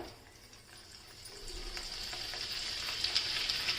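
Oil heating for a tadka with mustard seeds, cumin and grated ginger, a faint hiss that slowly builds into a brighter, steady sizzle with a few light crackles.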